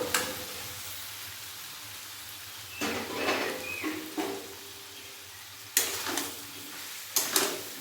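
Bottle gourd drops into a frying spice paste, bringing sudden loud bursts of sizzling and stirring over a soft, steady background hiss, with no speech.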